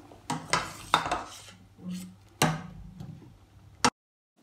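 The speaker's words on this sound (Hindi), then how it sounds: "अब हम इसे एक बाउल में निकाल लेंगे" Cooked potatoes for a Korean-style chilli garlic dish are moved from a pan into a bowl: a few close spoon scrapes and clinks against cookware, ending in one sharp knock.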